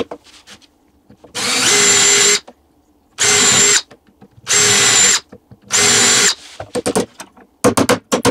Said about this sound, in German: Jetzt müssen wir hier noch die Löcher bohren.